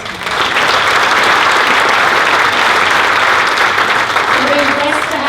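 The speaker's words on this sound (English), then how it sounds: "Please give them a round of applause." Audience applause at a school sport event with Olympians present, a dense, loud burst of clapping that swells quickly and holds steady for several seconds before easing slightly.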